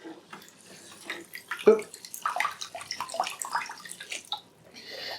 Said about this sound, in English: We're going to dip it into the water here, and as you can see, it's definitely pumping.